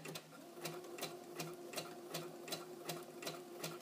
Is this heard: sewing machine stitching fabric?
yes